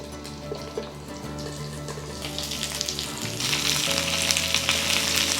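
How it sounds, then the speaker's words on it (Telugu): Green chilies and stuffed brinjals sizzle and fry steadily in oil under a lid on low flame, a continuous close crackle that grows a little louder and busier toward the end, with no talk. "మూత పెట్టుకుని సిమ్లో వేయించుకోవాలి."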